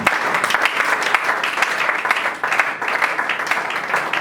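A church congregation applauds together, a dense, loud and continuous wash of clapping from many hands filling the room with no pause.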